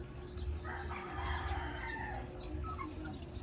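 Young white Leghorn chickens crowd together, giving off a steady murmur of clucks and chirps over a low constant hum, close by and moderately loud.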